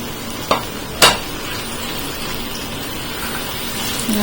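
Mashed roasted brinjal curry frying in oil in a pan, a steady soft sizzle with two sharp spoon knocks against the pan near the start as it is stirred.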